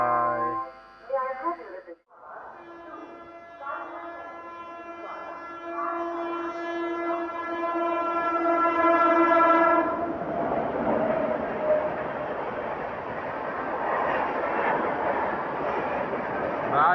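A train at Etawah Junction sounds a long, loud horn as it approaches, then roars past with rushing wheel and carriage noise that continues to the end.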